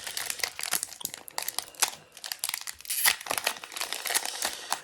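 Pokémon booster pack from the Sun & Moon Invasion Karma (Unbroken Bonds) series torn open, its foil wrapper crinkling and crackling in dense, close, continuous bursts with no talk.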